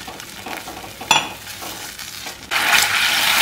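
Red chili sauce sizzles and fries loudly in a pan, with a sharp clink near the start, then the hiss surges brighter and stronger as water is poured in.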